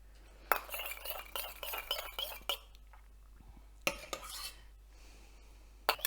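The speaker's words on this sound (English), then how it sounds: "You have to slowly mix in the warm milk into the yogurt." Spoon mixing warm milk into yogurt in a bowl, with scattered clinks against the bowl and soft scraping stirs, several sharp taps spread through an otherwise quiet stretch.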